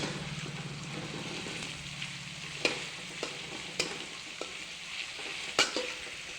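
Onions fry in a pan for a country-style chicken feast, giving a continuous low crackling sizzle with occasional light scrapes and taps from stirring.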